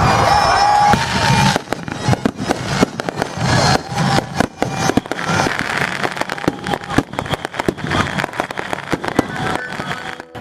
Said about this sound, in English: consisting of a huge celebration followed by some pretty spectacular fireworks